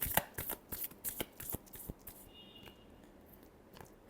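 Tarot cards shuffled by hand up close, a quick run of crisp riffling flicks that stops halfway, leaving a quiet room with faint rustle.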